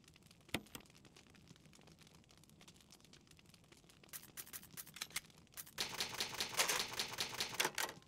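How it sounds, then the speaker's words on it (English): A typewriter from the Resident Evil remaster save screen taps out sparse, crisp keystrokes at first, then breaks into a louder, rapid burst of clattering strikes near the end. "I love the sound of a typewriter."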